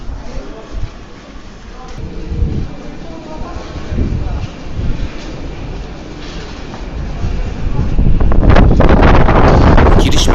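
Gusty night wind buffets the microphone at a Moscow metro station entrance with low rumbling bursts, growing stronger and rougher toward the end, amid a faint underground ambience.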